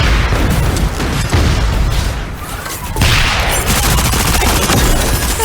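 Loud, dense gunfire from the Super Mecha Champions video game, with rapid shots and bursts that keep going nearly the whole time.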